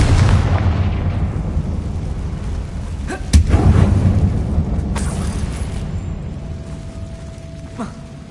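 A Confringo spell explodes in Hogwarts Legacy, a heavy boom with a rumbling tail after a first blast. A sharper burst follows, then the sound fades to a low ambient rumble with a faint tone.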